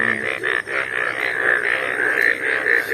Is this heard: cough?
no